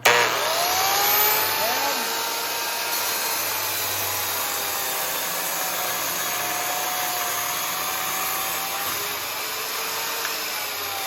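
A panel saw running and cutting wood, its motor holding a loud, steady whine with a constant rasping hiss throughout, a brief surge at the start and slowly gliding tones as the blade works.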